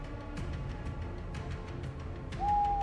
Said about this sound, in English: The male's deep, resonant hooting echoes across the desert landscape